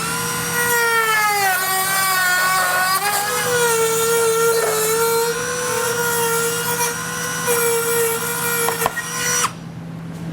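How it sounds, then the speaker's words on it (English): Handheld Dremel rotary tool cutting through plastic trim on a Chevrolet City Express, a loud continuous high-pitched whine that dips and rises in pitch as it bites into the material, then cuts off abruptly near the end. "I'm just going to use a Dremel tool to get this material removed."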